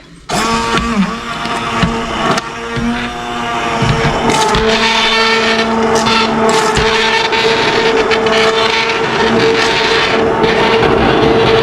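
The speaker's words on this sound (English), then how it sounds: "Okay, I've got my handy dandy immersion blender." A handheld immersion blender whirs steadily through a thick homemade soup in a pot, a loud continuous motor drone with shifting pitch as it churns the food, running alone without talk.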